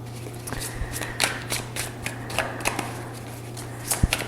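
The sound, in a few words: shuffling Psychedelic Space Tarot cards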